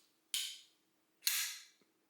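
Two crisp metallic snaps from the action of an A2D Knives MK 1 Large folding knife, spaced about a second apart, each with a short hissing decay, followed by a faint click.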